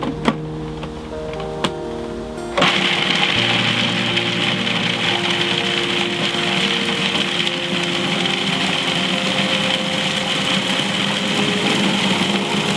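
Blender whizzing dates and dried mulberries for a raw vegan cheesecake, starting with a brief low rumble and clicks before bursting into a loud, steady grinding roar that runs unbroken to the end.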